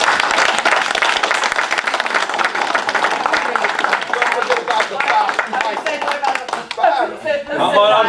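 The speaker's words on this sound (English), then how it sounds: "I think she deserves a round of applause for her daughter" Audience at a Homer Township board meeting applauds steadily with dense clapping, fading toward the end as voices and light chatter come through.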